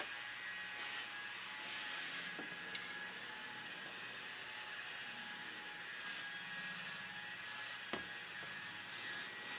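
Cavity wax sprays in bursts onto the bottom seam of a 2019 Sierra Denali truck door, several hissing blasts separated by pauses, close and fairly quiet, with a couple of faint clicks.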